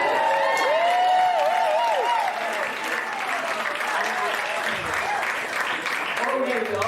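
A folk concert audience gives sustained, full applause for an 87-year-old singer; the clapping stays dense and steady while a voice speaks over it.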